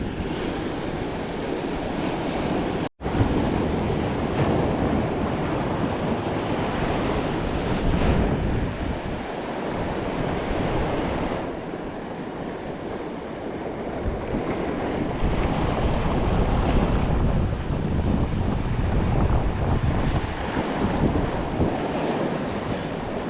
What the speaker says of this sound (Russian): Вода приходит, прилив.